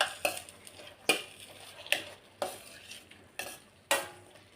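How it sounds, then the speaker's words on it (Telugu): Tomatoes cooking down in a covered pan with tamarind are stirred by hand, giving six or so sharp scraping clinks of a utensil against the pan at irregular intervals over a soft, low background sizzle. "ఈ టమాటాలు మాడకుండా మధ్య మధ్యలో మూత తీసుకుంటూ కలబెట్టుకుంటూ ఉండాలి."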